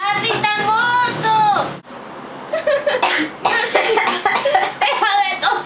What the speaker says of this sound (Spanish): ¡Deja de